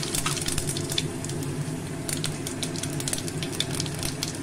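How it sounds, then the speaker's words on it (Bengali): Cumin seeds and bay leaf sizzle steadily in hot refined white oil for tempering, a close, continuous crackling fry with bright spits and pops across the whole stretch. "তেল গরম হয়ে গেছে, তাতে আমি জিরে আর তেজপাতা ফোড়নে ব্যবহার করছি।"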